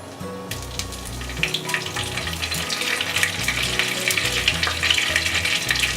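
Dried chilies and cloves fry in hot oil in a pan for a South Indian style crab curry, a steady, close crackling sizzle that grows busier, over a low droning hum.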